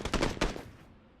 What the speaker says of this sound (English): listen to the gunshots from where they are positioned